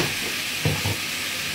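Chicken sizzles steadily in a hot pan as turmeric is added, a continuous close frying hiss with a couple of brief louder crackles.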